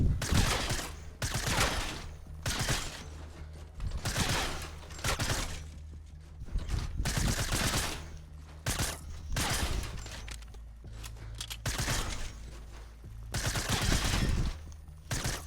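Repeated gunfire at a shooting range in the video game Fortnite rings out as loud, close bursts of several shots each at irregular intervals, with brief quiet gaps between them.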